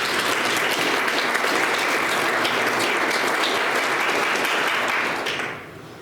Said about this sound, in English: we'll give Leanne a round of applause